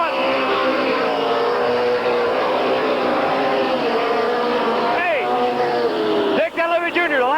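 Race cars roaring around the oval at Canton Motor Speedway in 1988, a loud continuous engine drone with rising and falling pitch as cars pass close by, one sharp pass near the end, with an announcer's voice over the racing.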